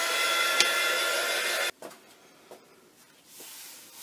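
A hair dryer blows steadily on wet Payne's gray paint on a mixed media collage background, then cuts off abruptly after a couple of seconds, leaving faint handling rustles.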